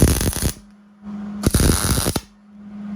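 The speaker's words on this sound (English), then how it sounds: "and I'm going to put a couple tack welds in" Two short bursts of crackling, sputtering tack welds on steel ring out up close, each lasting under a second, with a steady electric hum from the welder filling the pauses between them.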